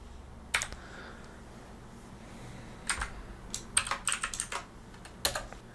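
Computer keyboard typing during command-line setup, short bursts of crisp key clicks with pauses between them, close and fairly quiet, with no voices.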